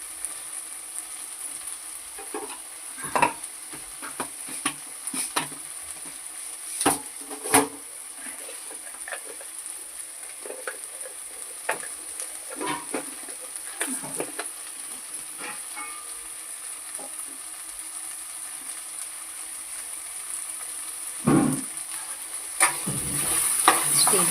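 A spatula stirs onion poha cooked with little oil in a steel kadhai, giving sparse, irregular scrapes and clicks against the metal over a quiet background.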